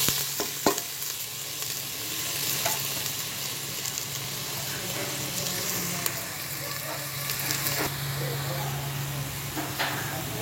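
Shrimp paste (bagoong) sizzles steadily in a hot pan with beef, a continuous close frying crackle with occasional stirring scrapes, and a voice speaks over it now and then.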